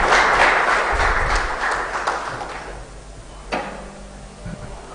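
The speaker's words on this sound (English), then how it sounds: "Let me see you clapping" Audience applause for panelists on stage at the INES Ruhengeri summer school closing day in Rwanda, a dense burst of clapping that fades after a couple of seconds into a quieter room with a few scattered claps.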